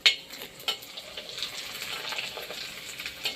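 Papad roasting over heat, giving a steady crackling sizzle with a few sharper pops near the start and end, close and fairly quiet, with no voices.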